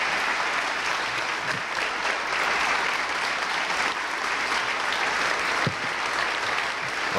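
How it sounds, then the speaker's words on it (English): Crowd applause after Rochester's 1995 State of the City address, a dense, continuous roar of clapping held at even loudness for about seven seconds. "concluding, and a big round of applause"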